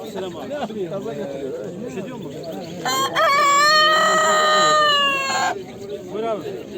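A rooster crows loudly and close for a few seconds, amid clucking chickens and chatter with voices talking nearby at the Edirnekapı poultry and songbird market in Istanbul.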